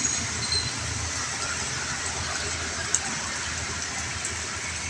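Steady rain falling outdoors, a dense even hiss with a faint distant rumble beneath and one small sharp tap partway through.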